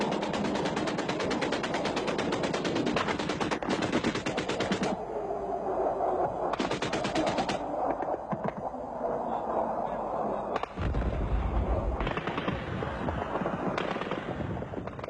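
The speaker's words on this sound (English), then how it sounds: "The sequence of bombs, then anti-missile flares, was by now routine." Airstrike bombs exploding during the Soviet-Afghan war, heard as dense crackling bursts and rumbling blasts that fill the whole span, with heavy low thuds near the end and a continuous loud, chaotic texture throughout.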